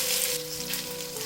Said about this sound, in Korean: 예열한 팬에 기름을 넉넉하게 두르고 감자전 반죽을